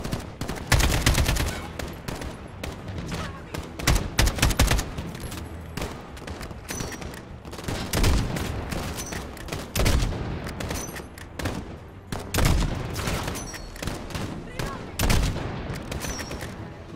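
Rapid gunfire from Call of Duty Modern Warfare: repeated loud bursts and single sharp shots, clustered around the start, middle and end, over a continuous battle din.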